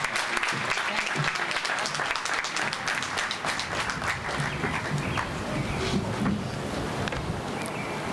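A crowd claps steadily in sustained applause, dense and even throughout with no voices rising above it.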